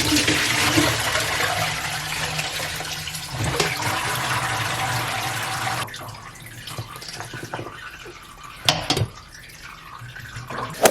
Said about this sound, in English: So now I'm gonna drain the water